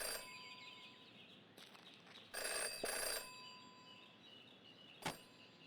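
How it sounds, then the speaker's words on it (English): Telephone ringing in the video game Jenny LeClue, a few bright electronic ring bursts with a sharp chime near the end, faint and over quiet background ambience. "Jenny had learned never to ignore a ringing phone."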